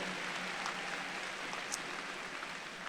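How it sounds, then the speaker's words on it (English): A large crowd at a university's 155th commencement ceremony gives sustained applause, a broad and even roar of distant clapping with no breaks. "Give him a round of applause."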